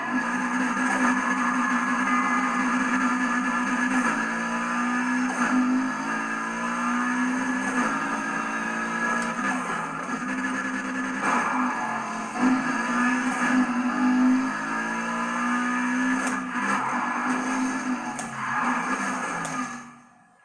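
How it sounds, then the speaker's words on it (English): A tuned car in the Need for Speed Heat racing game roars with a steady, jet-like whine and drone, holding loud and close for about twenty seconds with small shifts in pitch before cutting off abruptly. "it sounds like a jet, which I like"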